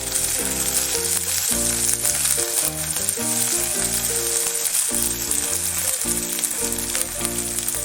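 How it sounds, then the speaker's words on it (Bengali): Garlic and ginger frying in a pan while a Bengali winter-vegetable chicken stew is made; a continuous, fairly loud sizzle runs throughout under background music. "এবার আমি রসুনটা দিয়ে দেবো, আদাটাও দিয়ে দেবো। দিয়ে একটু ভেজে নেব।"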